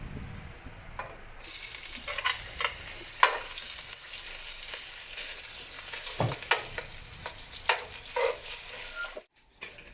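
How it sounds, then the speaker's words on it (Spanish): Longaniza sausage sizzles and crackles in hot oil for chanclas poblanas, a steady close frying hiss with sharp pops and stirring clatter that cuts out abruptly near the end. "En lo que se está calentando nuestro aceite. Vamos a agregar la longaniza."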